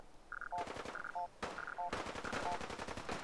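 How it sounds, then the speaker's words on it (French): Gunfire in Fallout 4, quiet bursts of rapid automatic shots in short rattling volleys separated by brief gaps, over faint repeating game tones, with no talking. "Ça tire, je sais pas où."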